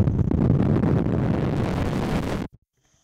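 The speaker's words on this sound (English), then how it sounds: "There's not really any wind, but a very gentle breeze like so." Breeze buffets an outdoor microphone in a calm forest, a loud low rumbling wind blast lasting a couple of seconds before cutting off abruptly to near silence.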